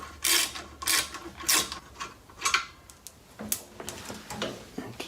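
Metallic clicks and ratcheting from removing the brake caliper retainer bolts on a Toyota 4Runner's rear brakes, a series of short, close, sharp bursts repeating at an uneven pace with no talk.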